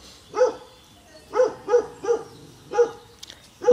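A small dog barks at ants in short, sharp yips, about five separate barks spaced roughly a second apart, close and fairly loud with quiet gaps between.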